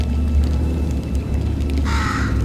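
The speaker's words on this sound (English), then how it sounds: "Oh look, a bird!" A bird caws once in the Portal 2 video game: a single harsh, raspy crow-like call that comes loud near the end over a constant low electronic hum.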